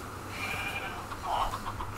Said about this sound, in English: Now here's a sheep.